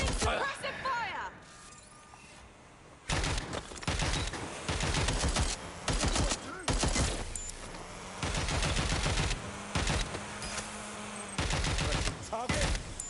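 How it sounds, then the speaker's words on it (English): Repeated bursts of automatic gunfire in Watch Dogs Legion sound loud and close, separated by short pauses, while voices shout throughout. "Taking fire! Engaging hostile target. Providing suppressive fire!"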